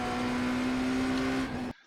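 BMW M Hybrid V8 race car at full throttle in iRacing at Daytona, a loud, close, high-pitched engine roar holding a steady tone that cuts off abruptly after under two seconds.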